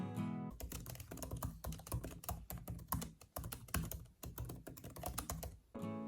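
Someone types steadily on a MacBook Air M1 keyboard, producing close, crisp, rapid key clicks in an uneven rhythm with brief pauses, heard alone.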